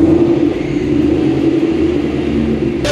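A supercharged E85 Ford Mustang engine idles with a deep, steady rumble and a droning hum, close and loud, holding an even tone throughout with a brief sharper noise at the very end.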